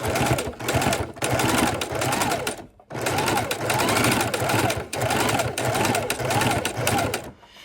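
A sewing machine stitches slowly through several layers of a DIY wallet, running in long, steady bursts of rapid mechanical clatter with two brief pauses, loud and close.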